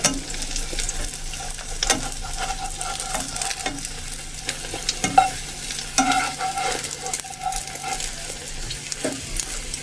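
An egg fries in hot oil in a pan with steady sizzling and crackling, broken up by occasional scraping knocks as it is stirred or turned close by.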